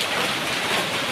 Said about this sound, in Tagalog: Lalakas pa yung ulan na yan.